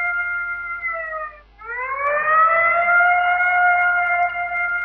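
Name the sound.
police siren outside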